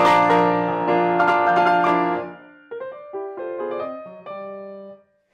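A piano plays the opening of the first movement of Beethoven's Piano Sonata No. 29 at a very fast metronome mark of 138 to the half note: a dense rush of chords, then quicker separated notes, ending in a decaying tone.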